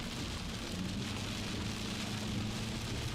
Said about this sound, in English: They are starting to get some of that rain